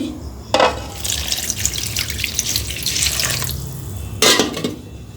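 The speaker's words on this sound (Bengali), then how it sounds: "এখন আমি পানি দিয়ে দিচ্ছি" Water pours and splashes into a pot of washed papaya in a steady stream, with sharper splashy bursts at the start and near the end.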